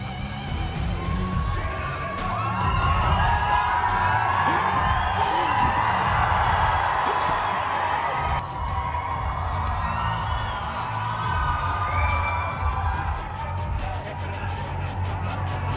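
A crowd around a wrestling ring cheering, whooping and yelling in a continuous swell, moderately loud, with someone talking over it.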